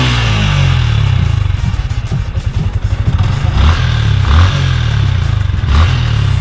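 A Yamaha Sniper 155 motorcycle, about two years and four months old, idles loudly up close with a steady, throbbing engine pulse and some mechanical clatter, with no talk over it.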